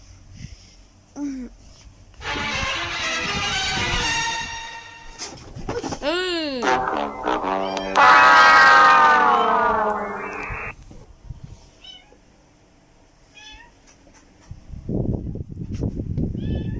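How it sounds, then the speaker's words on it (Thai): A cat meows repeatedly, some calls drawn out and wavering, close by, with a person talking quietly in the background between the cries. "นี่แมว"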